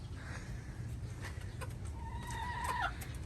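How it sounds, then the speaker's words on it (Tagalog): Small bantam chickens clucking softly on a farm in Pagudpud, Ilocos Norte, with a few short calls and one rising squawk near the end over a low background hum. "Pero ito yung maliliit na manok."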